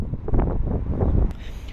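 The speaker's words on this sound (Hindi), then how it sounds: "यहाँ पे हवा बहुत तेज़ चलती है" Strong wind blows in a hilly park in the UK, a steady rushing roar buffeting the microphone with gusty rumble throughout, close and fairly loud with no other sounds.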